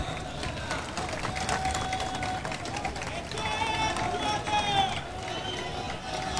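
Audience applauding at a political speech in Kalyan with Raj Thackeray: continuous clapping and crowd noise that swells slightly midway, with whistles and shouting mixed in throughout.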